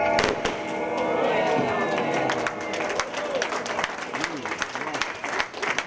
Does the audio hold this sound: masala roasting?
no